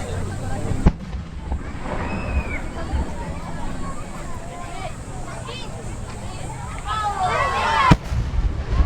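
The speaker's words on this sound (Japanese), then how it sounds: "キラキラと輝く万華鏡を表現した花火です" Fireworks at the Mito Komon festival burst over water, with sharp loud booms near the start and end and crackling, whistling effects between, under a continuous announcer's voice and crowd murmur.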